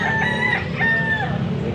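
A white Kelso stag, a young rooster, crows close and loud in one drawn-out call with a rising, wavering tone that trails off, with no talk over it.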